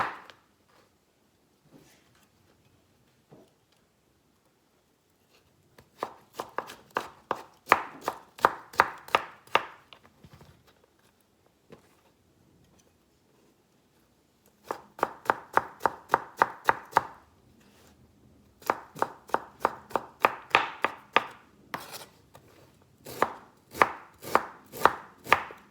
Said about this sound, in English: So I basically cut the ends, all the tough parts around, and then I will chop it